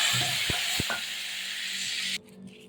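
Oil hits a hot kadai for a vegetarian papaya and potato curry, giving a steady close sizzle with a couple of sharp clunks early on, then cutting off abruptly near the end.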